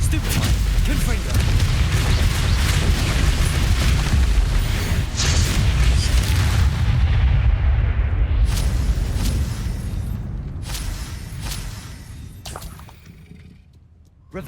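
A Confringo fire spell blasts in Hogwarts Legacy, a dense roaring burst with crackling impacts that fades out over several seconds.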